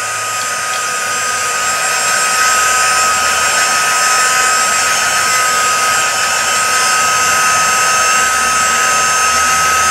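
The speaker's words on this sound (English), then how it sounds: "you can use a heat tool" A heat tool blowing hot air to dry freshly colored seam binding, a loud, constant whooshing hum with no break or change in pitch.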